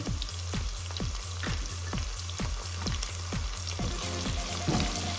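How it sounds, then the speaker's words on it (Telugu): Carrots, potatoes, cashews and frozen green peas sizzle and fry in a pan for a steady, close crackle, with rhythmic stirring scrapes throughout. "ఇవన్నీ వేసి కొంచెం వేయించిన తర్వాత"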